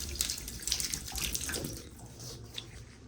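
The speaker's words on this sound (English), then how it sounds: "it's draining nice. You hear that? Yeah, right down the drain." Water from a newly installed 60-by-30-inch Americast bathtub drains steadily down the drain, a continuous close gurgling rush with small splashy bursts and no talking.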